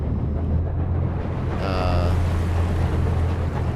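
A ship's engine in the simulator Seafarer: The Ship Sim holds a deep, constant rumble while the throttle is cranked up, with a brief whine rising over water and wind noise and no voices.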